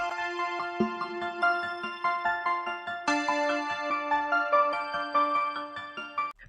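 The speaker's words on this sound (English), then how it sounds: "I put an ARP, so this is what the ARP sounds like" A bright synth arpeggio ticks through rapid repeating notes in a steady rhythm, shifting pitch partway through, with no voices.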